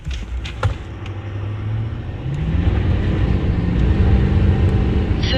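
A 2024 Chevy Silverado 3500 Duramax diesel pickup with a 10-speed transmission accelerates hard from a stop, its low engine rumble building and climbing steadily in pitch and loudness, heard from inside the cab.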